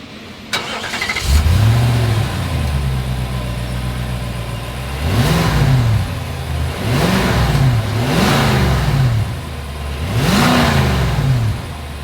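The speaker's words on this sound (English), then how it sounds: "As always, here is that exhaust clip." A 2024 Nissan Armada starts up from outside at the exhaust, settling into a deep, steady idle, then gets four loud revs in succession, each rising sharply and falling back to idle, close and dominant.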